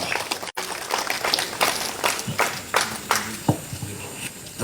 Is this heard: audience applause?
yes